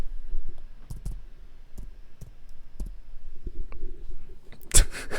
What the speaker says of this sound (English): We're gonna give some ASMR of me typing.